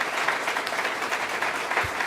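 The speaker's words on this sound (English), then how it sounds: "if we could just give all the residents and tenants a round of applause" A roomful of residents and tenants at a public housing meeting keeps up a brief, steady round of clapping, close and even throughout, with one low thump near the end.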